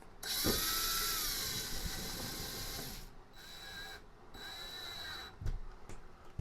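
A power drill driving a screw into a wall with no stud, a loud close high whine running steadily, then stopping and restarting in shorter bursts as the screw is run the rest of the way in.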